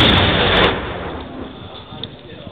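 A cannon fires after a countdown, a loud close blast whose heavy rumble decays over about two seconds into a low tail, with a brief voice heard at the very start.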